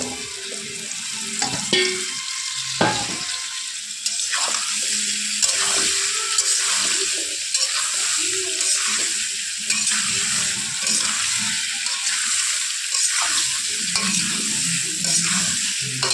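Mango pickle with salt being stirred in a hot kadai: continuous scraping and stirring over a bright sizzle, with irregular clinks and knocks throughout and no talking.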